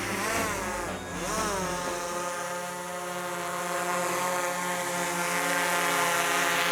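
A drone's propellers whine loudly and close by, the buzzing pitch dipping and rising as it shifts, then holding a steady high drone for several seconds.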